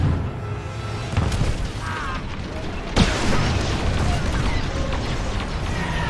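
Missile hits in a video game battle, with mechanical clanks and a sharp booming impact near the midpoint over a dense, continuous rumble of combat noise.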